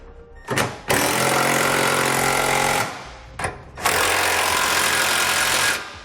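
A power tool snugs down Curt trailer hitch receiver hardware on a 2018 Ford Taurus, giving two loud sustained whirring bursts of about two seconds each, with a brief blip before each one.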